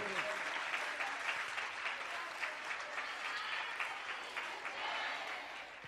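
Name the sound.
applause welcoming the procession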